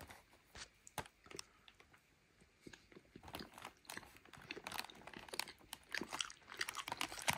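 Someone bites and chews a Harrys Chocalin chocolate pastry, giving soft, irregular crunches and munching sounds close to the microphone, faint at first and then denser and louder toward the end, with no talk.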